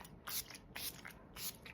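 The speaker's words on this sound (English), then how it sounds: "gonna spray with a little setting spray" Makeup setting spray goes off in three short, close hissing bursts, evenly spaced and separated by brief quiet gaps.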